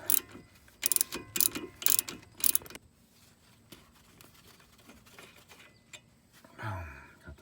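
Ratchet wrench clicking on a rusty bolt on a Subaru WRX front suspension, several loud rapid ratcheting bursts up front, then quiet workshop background and a brief scrape at the end.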